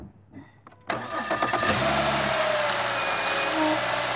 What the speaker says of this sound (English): Now we're going to start the engine.